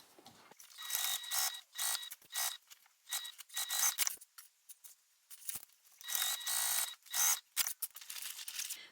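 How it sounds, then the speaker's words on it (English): Sewing machine running in repeated short bursts while top stitching 1/8 inch along a makeup bag, with a rapid mechanical chatter in each run, brief pauses between runs, close and fairly quiet, no talking. "I am just going to do 1/8 of an inch top stitch all the way across."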